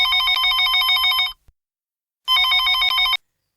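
A telephone rings out as a call is placed to Simonette: two loud, close bursts of bright electronic ringing, each a little over a second long and separated by a short silence.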